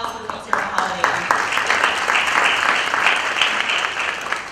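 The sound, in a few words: audience applause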